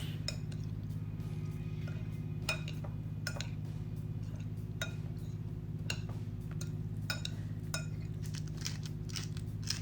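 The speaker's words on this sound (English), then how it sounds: "Give it a good mix." A utensil clinks and scrapes against a pan while brown butter sauce is stirred for scallops with citrus and garlic mushroom orzo, irregular light metallic taps over a steady low kitchen hum.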